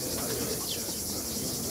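Havades pigeons in a loft cooing steadily, a soft continuous murmur of birds close by with no one speaking.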